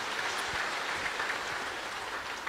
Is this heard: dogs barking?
no